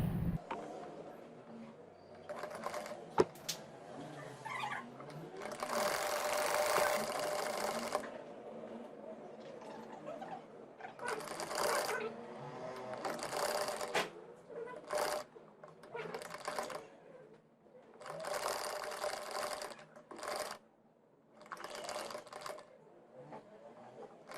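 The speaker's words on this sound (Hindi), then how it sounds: "अब ये हम लास्ट रिबन को सिलाई लगा रहे हैं।" A sewing machine stitching ribbons onto a neck design, running in several bursts of whirring stitches separated by pauses, with someone talking at times.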